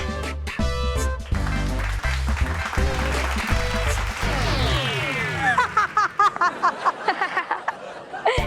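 Scattered clapping from an audience on the set of a children's fantasy TV series, rising out of music and a whooshing effect, then sharp separate claps in the last few seconds.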